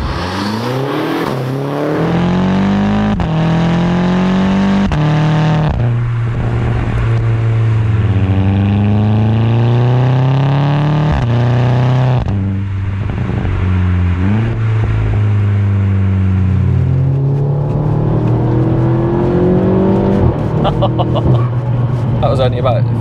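A tuned Stage 2+ Audi S3 8P of about 362 bhp accelerates at half throttle, its engine note sweeping up through quick gear shifts under steady conversation from people in the car.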